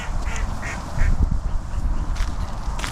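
Ducks quack at an outdoor pond, with several short nasal quacks scattered over a steady bed of open-air background noise, moderately close and without talk.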